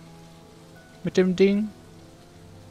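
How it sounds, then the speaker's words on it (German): Steady rain patters in the background of the video game Whispering Willows, a soft continuous wash heard beneath a brief burst of someone talking. "Okay, es regnet. Das Regen, das nervt ein bisschen."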